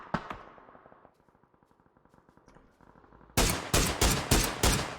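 Gunfire in the video game PUBG during a competitive match: a few loud shots, then a rapid run of quieter distant automatic fire, then a burst of heavy, close, loud shots repeating in quick succession, with no talking.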